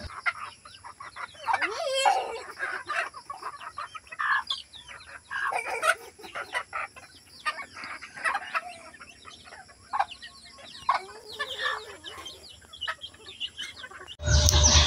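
Chickens cluck and chatter continuously nearby, with bursts of squawks and occasional bird chirps, moderately loud, ending in a short blast of noise.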